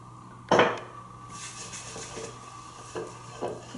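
Greasing a bowl for pizza dough in a home kitchen: a sharp clatter of the bowl near the start, then soft rubbing and scraping with a few light knocks against a steady low hum, no voices.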